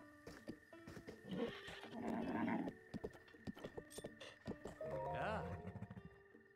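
A horse whinnies and its hooves clip-clop in Zelda: Breath of the Wild, with a long neigh near the start and another near the end, steady hoof steps throughout and background game music.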